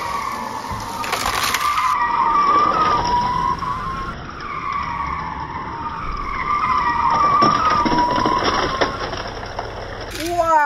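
Hot Wheels toy race cars in a tournament, plastic wheels rolling and skidding down a track in repeated whooshing runs, with speech over it and a brief high squeal at the end.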